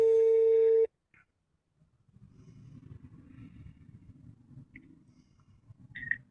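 A telephone call placed on speakerphone to an emergency consular line: a loud steady ringback tone cuts off abruptly, then faint line noise and low rumble follow with a few small clicks and a brief tone near the end.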